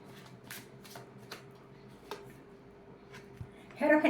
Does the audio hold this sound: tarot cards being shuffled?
yes